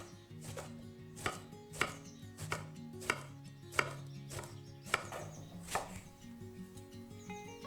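A knife slices a large eggplant into thick rings on a board. About nine crisp, evenly spaced cuts land close and clear, each a sharp tap, with faint kitchen background between them.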